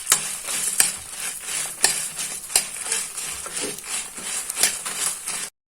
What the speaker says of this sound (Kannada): ಸೇರಿಸಿದ ನಂತರ ಒಂದು ಸ್ವಲ್ಪ ಹುರಿಬೇಕು